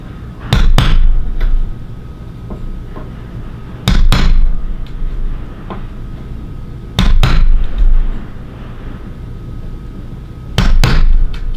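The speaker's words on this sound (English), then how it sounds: "we're going to basically tap down with the hammer, and we're going to basically indent the artwork so we know where the drill goes" A hammer strikes a center punch to mark artwork on an Arcade1Up arcade cabinet: four close, sharp pairs of metallic taps spaced a few seconds apart, with a quiet hum between them.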